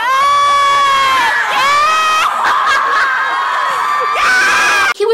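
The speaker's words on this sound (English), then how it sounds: "everyone was screaming for the drummer" Concert audience of young fans screaming loudly and continuously while waiting for a band to come out, with high shrieking voices overlapping in sustained waves, a brief drop near the end before the screams surge again.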